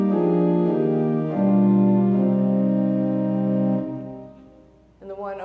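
A front-mounted pipe organ stop holds rich sustained chords, loud and close, moving through a few changes before fading, followed by a short burst of speech.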